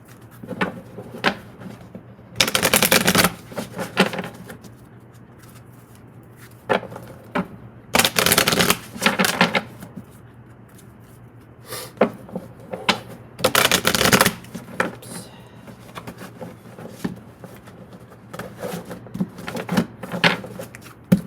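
Tarot cards being shuffled in a loose, messy way, with repeated crisp riffling bursts every few seconds between quieter taps and handling of the deck, close up.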